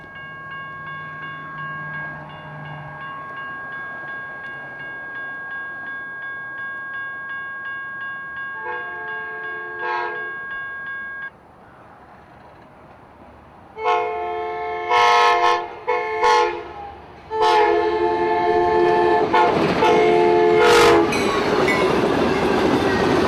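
Amtrak 92, led by engine 1792, passes through Lakeland with long, loud horn blasts that swell from a distance and then break into short separate toots. Rumbling wheels and clattering rail joints grow as the train rolls by close at hand.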